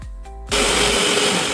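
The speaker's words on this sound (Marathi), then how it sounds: "त्यानंतर सर्व बारीक करून घ्यायचं मिक्सरमध्ये आणि सगळ्याचे पीठ करून घ्यायचे आहे." A kitchen mixer grinder starts up on roasted dry fruits, gum and flour, a brief whir of the motor spinning up and then a loud, steady grinding roar.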